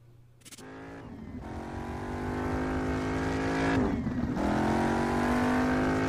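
Jaguar F-Type race car engine in the mobile racing game Need For Speed No Limits drones steadily and builds in pitch and loudness as it accelerates, dipping once as it shifts before climbing again, loud and close with no talk.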